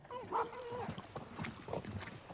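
Dogs close by give a high, drawn-out whine and a brief yip, followed by quieter shuffling and small vocal noises.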